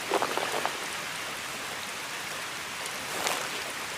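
Steady rain falls in a broad, even hiss throughout, with a few brief brighter spatters near the start and again toward the end, and no voices.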